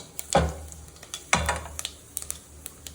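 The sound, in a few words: whole spices sizzling in hot oil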